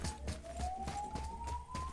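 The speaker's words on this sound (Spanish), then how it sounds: "Uy, las ambulancias." A siren wails steadily in the video game God of War, a continuous rising tone over a rhythmic low pulsing backdrop, moderately loud.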